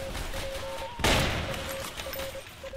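Gunfire in the Roblox WW2 game: a sharp burst of shots erupts about a second in, then fades under a steady tone and continued noisy game sounds, with no talk.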